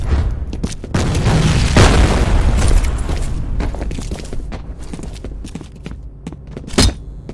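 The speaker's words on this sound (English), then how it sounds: "Grenade out!" Loud, dense boom of a grenade blast in the F.E.A.R. Combat multiplayer shooter, its roar filling several seconds amid gunfire and clatter, followed by another sharp bang near the end.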